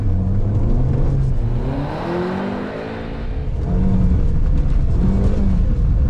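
Car lapping a track and accelerating while understeering into corners, a loud steady engine drone with rising and falling pitch throughout, no voices.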